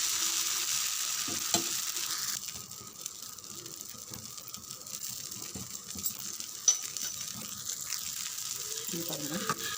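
Dosa batter frying on a hot pan, a faint steady sizzle with occasional scraping clicks from a spatula, with a brief voice at the end.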